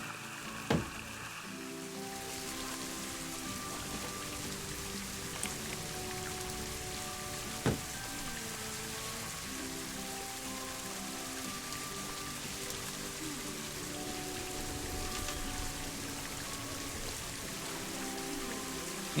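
Steady rain falls in the Planet Zoo video game, a continuous soft hiss of drops on surfaces, with faint music tones underneath and a couple of brief ticks.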